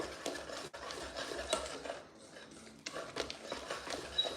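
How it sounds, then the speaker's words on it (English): A spoon scrapes and knocks around a bowl while banana bread batter with banana chunks is mixed, a quiet run of irregular clinks and swishes with a brief lull midway. "I'm going to mix this very well"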